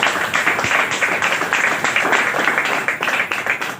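Crowd applause at a meeting welcoming a speaker, dense steady clapping from many hands, fairly loud and continuous for several seconds with no voice over it.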